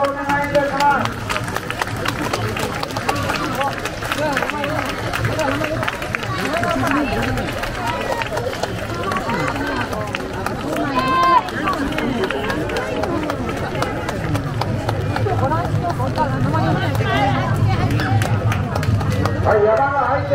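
At the rainy Koyanose Gion Yamakasa festival in Fukuoka, a heavy float charges past as bearers pound along on running feet amid a busy crowd, while an announcer talks over the rushing noise.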